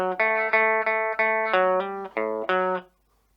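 A rockabilly guitar lick is picked as a quick run of about eight bright, distinct notes in a bouncy rhythm. The notes are close and clear, and the last one fades into near silence.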